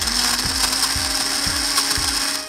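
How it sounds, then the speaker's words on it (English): A traditional countertop blender runs loud and steady, a harsh whirring motor roar with a rhythmic mechanical grinding pulse repeating about twice a second throughout. "Here's a traditional blender."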